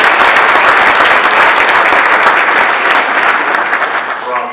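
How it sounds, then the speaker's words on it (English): A conference audience applauds loudly and steadily for a speaker, a thick continuous wash of clapping that begins to thin toward the end. "Can you give Dave another round of applause"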